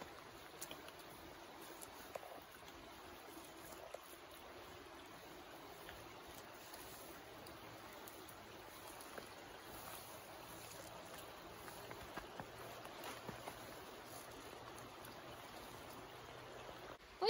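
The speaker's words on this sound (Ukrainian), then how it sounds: "І зараз ви можете почути, як шумить річка." A river rushes through a winter forest as a faint, steady, broadband wash of flowing water, distant and continuous, with no talk.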